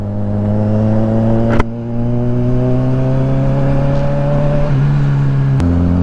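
A Kawasaki Ninja 1000SX motorcycle with a broken exhaust mid-pipe drones loud and close at steady cruising revs, its pitch shifting slightly as it rides, with a couple of sharp knocks and no talk.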